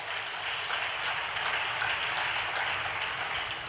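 A crowd at a church gathering applauds steadily for several seconds, a dense wash of many hands clapping at an even, sustained level with no talk.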